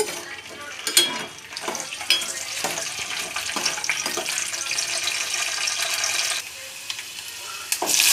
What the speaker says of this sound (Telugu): వేరుశనగ గుళ్ళు వేయించుకుందాం